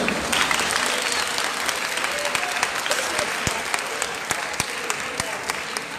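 A graduation audience at a senior high school commencement applauds steadily, a dense, sustained wash of many hands clapping nearby that holds at an even level throughout.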